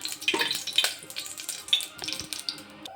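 Tempering sizzles in hot oil for a spicy lentil and eggplant dish, with crackling pops and bursts of hiss alongside light utensil scraping, close and fairly quiet.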